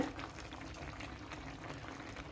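Pui shak greens cooking with shrimp in a pot over a low gas flame, a soft steady bubbling simmer with faint liquid gurgles, quiet and continuous without voices.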